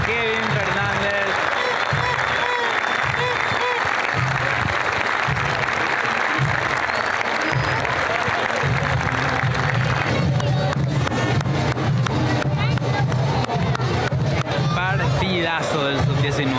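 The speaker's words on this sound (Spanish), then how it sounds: "merecida ovación para Kevin Fernández" A stadium crowd at a Paraguayan league football match between Cerro Porteño and Guaraní gives a player a loud, sustained ovation of clapping, cheering and rhythmic chanting, with a commentator talking over it.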